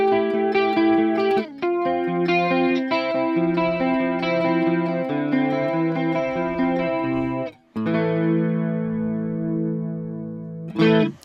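An electric guitar played clean through a stereo chorus effects rig rings out in sustained chords and picked notes, shimmering and wide with some reverb, pausing briefly between phrases and ending on a final strum.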